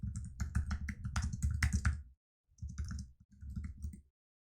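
Rapid clattering keystrokes on a computer keyboard in bursts, a pause, then two shorter runs of typing, close and clear.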